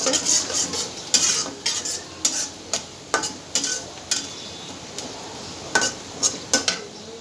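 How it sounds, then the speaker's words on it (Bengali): Onions browning in a pan for egg curry, stirred with a utensil that clinks and scrapes in an irregular rhythm over a soft, steady sizzle, close and loud, with no speech. "পেঁয়াজটা আমার ভাজা হয়ে গেছে এই যে সুন্দর ব্রাউন কালার হয়ে আসছে"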